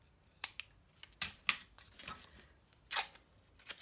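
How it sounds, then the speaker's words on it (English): Scissors snipping off a stray bit of paper or card while making a small concertina sketchbook, a few quiet, sharp cuts spaced irregularly in a hushed room with no talking. "So with my scissors, just going to cut that bit off there"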